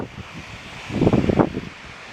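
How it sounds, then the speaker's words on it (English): Wind gusting across a flat commercial rooftop in Detroit, a steady low roar that swells into a louder buffeting burst midway before easing off, with no talk over it. "It's kind of windy."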